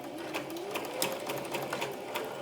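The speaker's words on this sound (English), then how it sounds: "I'm going to place it in under my presser foot, and I'm going to do some back stitches" A sewing machine back stitches along the edge of a fabric face mask held under the presser foot, giving a steady, close mechanical whir with rapid rhythmic needle ticks throughout.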